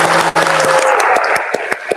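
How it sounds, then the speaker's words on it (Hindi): Clapping from an audience at a political speech event, a dense broadband patter after a brief pause, growing sparse near the end with a few separate claps standing out. "प्लीज तालियां बजाएं।"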